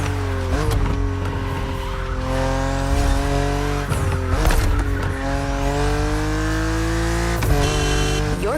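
A BMW Z4 E89 coupe cabriolet roars through gear changes in The Crew Motorfest racing game, its engine note rising and dropping repeatedly with brief tire squeals, loud and close throughout.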